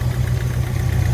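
A 1964 Ford F100 pickup's 351 Windsor V8 with a Holley 650 double-pumper carburetor idles after a cold start, a steady, loud low rumble with even pulsing and no talk.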